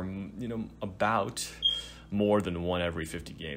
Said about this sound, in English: I can't turn off this stupid smoke detector.